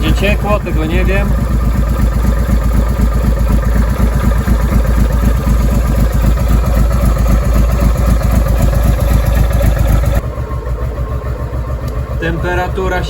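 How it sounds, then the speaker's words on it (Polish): A Honda Transalp 650 motorcycle engine idles close by on choke, its steady low throb wavering as the revs hunt up and down, continuous through the clip with a slight drop near the end. "Temperatura silnika się podnosi, obroty pływają"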